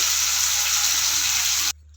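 Hilsa fish heads fry in oil with a nigella-seed tempering, a loud, dense sizzle that runs steadily up close and then cuts off abruptly near the end.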